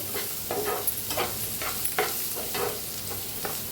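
Potato curry with a spoonful of turmeric and onion stirred in a frying pan: soft sizzling under a series of spoon scrapes against the pan at a loose, repeating rhythm, close up.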